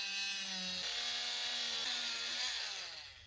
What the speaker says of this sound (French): Alors, plusieurs méthodes pour couper les durites. Vous pouvez y aller à la scie, à la cisaille. Moi, je préfère utiliser ma petite disqueuse.